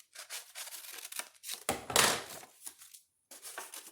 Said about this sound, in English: So I'm going to trim off this extra piece here.